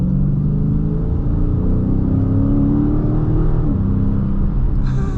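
A Dodge Challenger Scat Pack 392 V8 accelerating, heard from inside the cabin as a loud, deep continuous engine rumble rising in pitch with a brief shift, alone with no talking.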